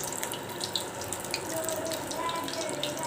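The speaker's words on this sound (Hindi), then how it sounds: "हमारा तेल गरम था तो हमने इसमें बॉल्स डाल दी हैं।" Potato and rice balls frying in hot oil, a steady close hiss and crackle that runs throughout at a moderate level, with no talk over it.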